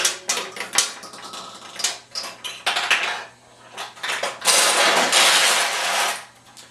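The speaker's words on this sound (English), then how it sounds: "pull down the flipper, and you'll pull it all the way down and quickly let go" Okumurayuki pachinko machine being played by pulling the flipper down and releasing it, launching a steel ball with sharp metallic clicks and clattering bursts followed by a long bright rattling wash of balls and mechanism noise.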